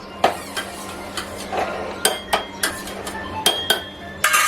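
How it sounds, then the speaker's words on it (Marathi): A spoon stirs and mixes ingredients in a metal pot, giving close, sharp clinks and scrapes at an irregular rhythm over a faint background hiss, with no talking. "आणि मिक्स करून घ्यायचं व्यवस्थित हे बघा"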